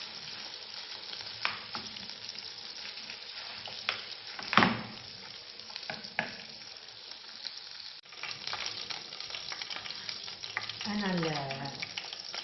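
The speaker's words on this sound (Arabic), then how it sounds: "نضيف الكبد، نزيد نخليه يتنقلع" Chicken liver and gizzards sizzle and crackle in hot oil in a pan, with stirring and an occasional utensil clatter, and a voice speaks briefly near the end.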